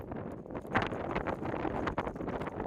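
Strong wind gusts buffet an outdoor microphone where a drone is about to take off, a steady broadband roar with surging peaks and a brief dip near the end, no talking.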